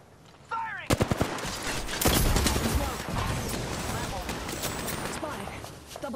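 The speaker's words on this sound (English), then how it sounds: "Taking fire! The enemies are shooting at me!" Gunfire from the video game Apex Legends: a few sharp single shots, then dense sustained automatic bursts with echoing cracks, loud and close, while in-game voice callouts sound over it.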